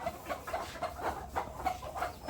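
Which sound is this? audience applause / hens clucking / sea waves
hens clucking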